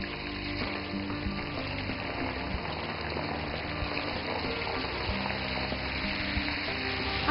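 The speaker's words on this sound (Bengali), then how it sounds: "এখন আমি মাংসটাকে ছাড়বো তেলে।" Arrowroot-coated beef frying in hot oil, a steady close bubbling sizzle that holds evenly throughout without pause.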